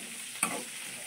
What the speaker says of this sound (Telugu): ఇప్పుడైతే టమాటా పచ్చడి చేస్తున్నా.